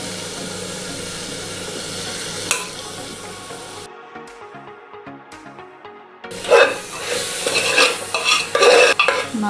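Turmeric powder being stirred into mutton gravy with coconut milk in a pan, with loud scraping stir strokes over a bubbling sizzle, a brief quieter pause midway, then vigorous close scraping again.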